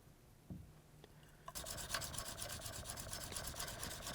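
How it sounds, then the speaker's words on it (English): A steel plane iron is honed on an extra fine sharpening stone, producing a steady rasping rub of close, continuous back-and-forth strokes after a few soft taps. "we're just polishing what we did on that extra coarse stone"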